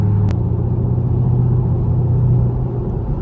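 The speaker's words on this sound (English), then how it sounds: "My exhaust sounds so fucking amazing" Steady, loud low rumble from the 6.2L V8 exhaust of a Chevrolet Camaro SS cruising on a highway, a constant droning hum with no voices.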